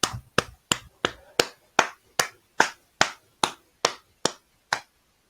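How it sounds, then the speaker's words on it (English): A single person claps for a virtual awards evening at a Milton Keynes college, about thirteen sharp, evenly spaced hand claps heard close and alone, with no crowd behind them. "I can hear the applause rippling across Milton Keynes."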